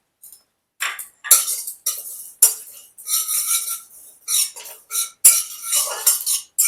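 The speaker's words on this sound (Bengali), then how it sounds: "তার জন্য 1 চামচ 5 ফোড়ন আর 1/4 চামচ জিরে, এগুলোকে আমি শুকনো অবস্থায় ভেজে নেব।" Panch phoron and cumin seeds dry-roasting in a kadai for shukto spice mix, heard as irregular close scraping and clinking of a spoon against the metal pan in short bursts.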